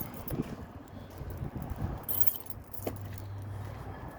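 A ring of keys jangles and clinks close by in an old shop building, rattling in a few bursts over a low engine-like hum, with no talk.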